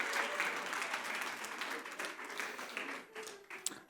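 A church congregation applauds the women in the audience, a dense, sustained wash of clapping that stays loud throughout, with a few sharper individual claps standing out near the end.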